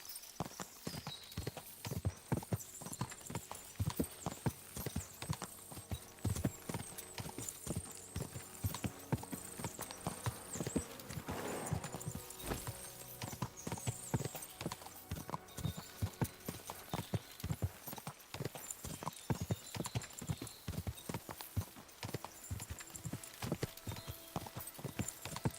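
A horse walks in Kingdom Come Deliverance II, its hooves clip-clopping in a steady, even rhythm throughout, close and clear over a faint ambient background.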